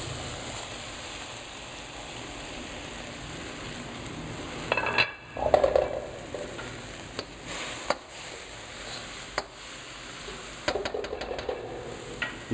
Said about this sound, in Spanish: Vamos a agregar el róbalo.